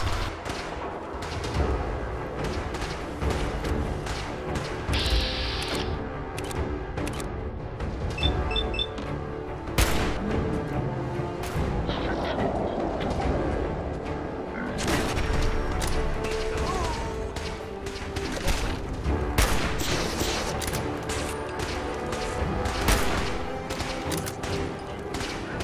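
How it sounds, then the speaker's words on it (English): Rapid gunfire in Fallout 4 on PC: bursts of shots and heavy booms overlap in a dense, continuous stretch of combat with crashes and mechanical clatter. "I'm running towards the gunfire."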